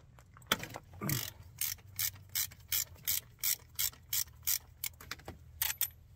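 A ratchet loosening the bleed screw on a Cat C12 diesel primary fuel filter, giving a close, regular series of about a dozen crisp clicking bursts in steady rhythm with quiet gaps between, no talking.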